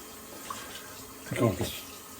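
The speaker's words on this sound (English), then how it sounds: "I'm just gonna do a quick rinse of that brush." A short splash of running tap water rinses a shaving brush at a sink, a brief faint burst in the middle of a quiet barbershop-style shaving setup.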